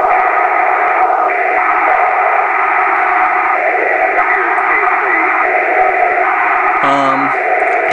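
Yaesu FT-450 transceiver receiver noise: dense, continuous radio hiss and garbled, echoing signal chatter with shifting tones, fairly loud and steady throughout, with a brief burst of different tones near the end.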